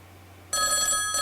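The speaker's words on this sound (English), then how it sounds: "the phone's ringing" A telephone rings in a second-grade classroom, a sudden electronic bell trill starting partway through and holding steady and loud over a quiet room hum.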